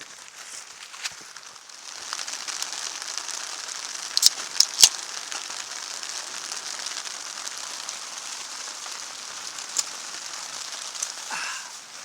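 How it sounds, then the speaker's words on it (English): Steady rain patters on a tent and camping gear during a canoe trip on the Sand River in Northern Ontario, a close, continuous hiss with occasional sharper drips and crinkles. "Rain's coming in from every angle."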